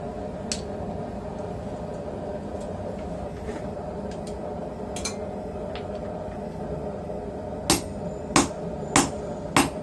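Hammer blows strike a hot cutting chisel into mild steel at a forge, four sharp metallic hits near the end following a few lighter taps, over a steady background hum.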